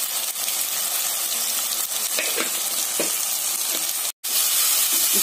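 Sliced tomatoes with a spoon of turmeric and salt sizzle steadily in a pan while being stirred, a dense, close frying hiss with soft scraping strokes for an egg masala curry; one brief dropout breaks the sound near the end.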